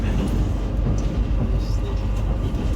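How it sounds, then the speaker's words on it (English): Another train passing alongside a PKP Intercity train between Warsaw and Białystok, a steady low rumble and rolling clatter heard from inside the carriage, continuous and fairly close throughout. "Another train beside us."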